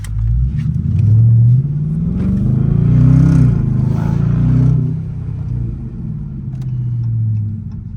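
A car engine with carbon upgraded mid mufflers rumbles and revs from inside the cabin, deep exhaust drone swelling and easing through several throttle blips, loud and close with no talk.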